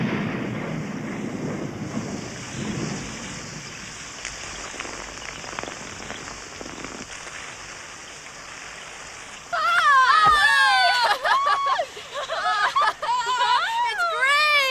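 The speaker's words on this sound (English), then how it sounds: "It's rain! A storm!" A rainstorm in an animated encyclopedia episode about Thomas Edison pours as a steady broadband hiss with wind, then music with bright sweeping tones enters over the rain partway through.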